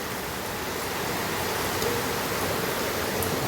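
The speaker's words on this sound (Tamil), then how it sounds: "மழை பிச்சை எடுக்குது காய்ஸ்." Heavy rain falls outdoors as a dense, steady hiss of even loudness throughout, with no voices over it.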